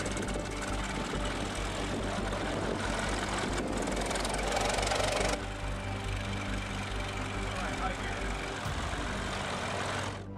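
A 1915 touring car chassis, fitted with a temporary seat, firewall, radiator and gas tank, runs its engine on a test drive, a steady low rumbling drone that shifts in character partway through, moderately quiet throughout.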